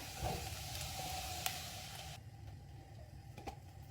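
Onion fries in butter in a pan until lightly golden, a faint, even sizzle with small pops that drops noticeably quieter about halfway through, no talking.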